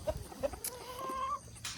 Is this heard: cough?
no